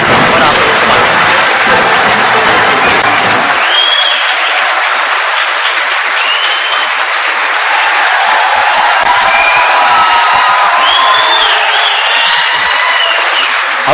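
A large audience at a Wake Up Pakistan gathering in Karachi claps and cheers, a loud, dense, continuous wash of applause, with a voice heard over it early on.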